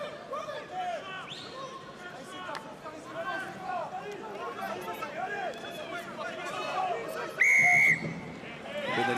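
A referee's whistle shrills once, sharp and prolonged, over a crowd murmur and commentary during a Toulon versus Racing 92 Top 14 rugby match.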